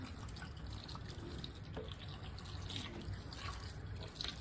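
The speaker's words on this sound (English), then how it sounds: "I'm going to pour this tomato bath" Tomato bath sauce is poured around a stuffed squash in a baking dish, a steady soft liquid pour and trickle running continuously at close range.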